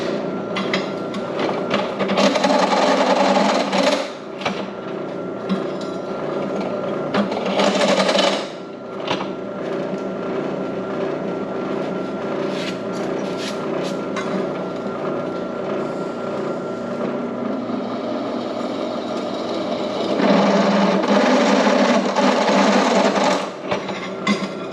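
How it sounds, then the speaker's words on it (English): Spot welds tacking two nuts onto a steel mid-plate bracket in a fabrication shop, heard as a steady buzzing arc crackle in several bursts of a few seconds each, close and fairly loud, with no talking. "I'm going to put a spot weld on those 2 nuts"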